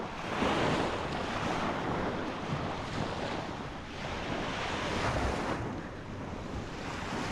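Steady surf and gusting wind buffet the microphone on an open dog beach, a continuous broadband roar with swells of wave wash rising and falling throughout, no voices.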